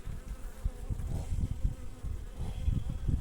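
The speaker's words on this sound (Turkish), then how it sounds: "Yavru arılarımız çıkmış." Honeybees hum in a low, continuous drone close by at an opened hive during an early spring inspection, with soft irregular thumps and no voices.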